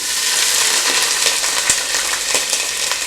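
Onions sizzling in hot oil in a cooking pot for chicken pulao, a loud, continuous close-up frying hiss with occasional pops and a stirring scrape, no talk.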